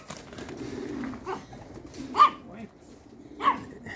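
Pigeons in a flying coop coo softly at close range, with a couple of louder calls standing out over low rustling and faint voices in the background.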